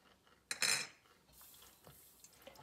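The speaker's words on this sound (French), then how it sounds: "Je mélange bien afin que tout le sel soit dissous dans l'eau." A spoon stirs table salt into water in a glass, with one sharp clink and clatter followed by softer faint swirling and light taps, quiet and close.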